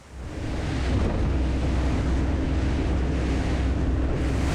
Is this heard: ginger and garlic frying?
no